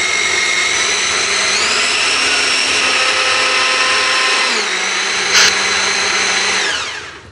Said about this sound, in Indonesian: Sekarang kita potong-potong dada ayamnya, terus mau kita giling.